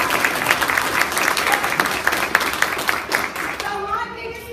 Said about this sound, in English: I want to give a big round of applause for Christy.